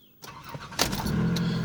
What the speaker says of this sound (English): We'll go ahead and start up the car.